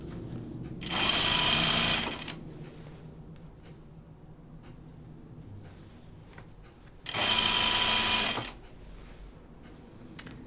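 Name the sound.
sewing machine stitching a tunic hem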